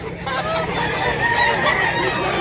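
A rooster offered for sale by a Cebuano poultry seller crows once, loud and close, a drawn-out call over steady outdoor noise.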